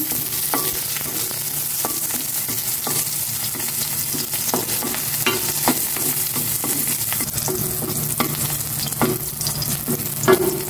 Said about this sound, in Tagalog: Maglalagay na ako ng cooking oil para makapag-gisa na ako. Gisa ko na itong bawang.